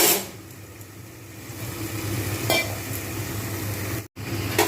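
Masala frying in oil for patal paneer, pointed gourd with paneer, gives a steady close sizzle with stirring scrapes and a brief dropout near the end.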